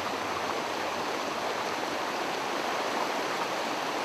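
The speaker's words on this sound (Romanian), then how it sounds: "Se află undeva în țara Ardealului, între ținuturile Nidoarei și Albei, o apă viforoasă, scria Sadoveanu." The Sebeș, a turbulent mountain river in Transylvania, roars as a loud, dense, unbroken rush of water, close and steady with no voices.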